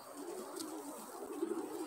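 Soft, low pigeon cooing murmurs along quietly, repeated without any talking.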